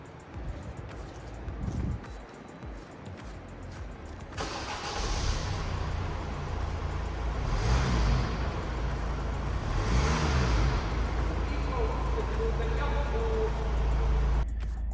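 A Honda CR-V's 2.2-litre common rail diesel engine cranks and catches after a few seconds, then settles into a steady, gruff idle close by, with a few light revs.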